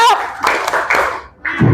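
Sixth-grade primary school class doing a rhythmic patterned clap together, short bursts of group clapping mixed with children's voices chanting along, close and loud.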